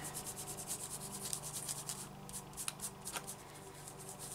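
Corduroy brush rubbing distress ink onto sanded paper, a run of soft rhythmic scratchy strokes, close and quiet.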